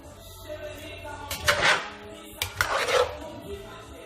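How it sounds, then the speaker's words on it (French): A spoon scrapes and knocks against a pot while curry chicken and potatoes are stirred, two distinct clattering strokes standing out over a low steady background, close by and moderately loud. "Je veux aller mélanger tout ce qu'on avait mis à l'intérieur"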